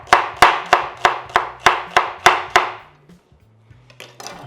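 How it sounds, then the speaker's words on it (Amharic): A knife slices an onion on a cutting board in a kitchen, nine sharp, evenly spaced chops ringing close and loud, then a few lighter scattered knocks after the slicing stops. "ሽንኩርት እንደዚህ ታረጉና ስላይስ"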